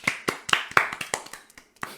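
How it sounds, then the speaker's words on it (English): Sparse applause in the Steins;Gate video game as an inventor is introduced: a handful of separate, uneven hand claps, fairly close, thinning out and pausing before one last clap. "Please welcome him with a big round of applause."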